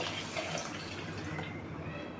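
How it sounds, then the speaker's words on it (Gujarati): Water is poured into a pressure cooker holding rice and moong dal, a short continuous splashing fill that is faint and steady throughout. "પાણી એડ કરી દેવાનું છે"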